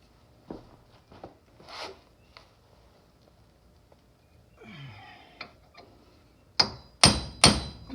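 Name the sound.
hammering axle through wheel bearing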